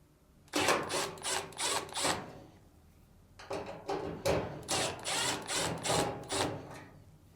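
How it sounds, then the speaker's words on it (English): A tool backs screws out of the upper frame plate of a Samsung dryer in two bursts of close, whirring and rattling pulses, separated by a short pause, with no voices. "Next, remove the screws on the upper frame plate."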